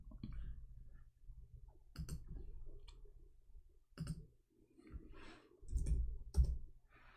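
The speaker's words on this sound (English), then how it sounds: "let me type it for you" A computer keyboard is typed on close up in irregular bursts of soft clicks with short pauses between them. The clicks are faint and no one speaks.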